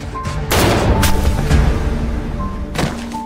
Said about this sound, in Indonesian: Taewoo mengeluarkan senapan dan tanpa ragu menembak Ye-jae dari belakang